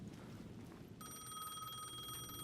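A payphone in the video game Alan Wake 2 starts ringing partway through, a steady, bright electronic bell trill that runs to the end over a low, quiet background hum.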